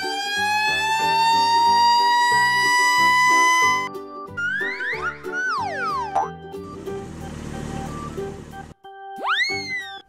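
A toy red fire truck plays an electronic siren of rising and falling whoops alongside cartoonish boings and chimes, loud and close, with no speech.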